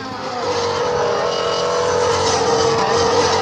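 Continuous loud engine-like racing car roar of a red toy F1 race car modelled on Michael Schumacher's car, steady and close throughout with no talking.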